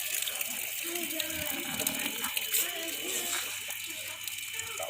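Water gushing on its own from a gas-releasing drilled well in a village in North Aceh, a steady broadband rush heard close with faint voices and rattling in the background.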